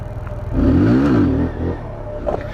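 A Kawasaki Z motorcycle engine revs up hard during a wheelie, rising then falling in pitch over about a second before settling to a lower idle, close and loud.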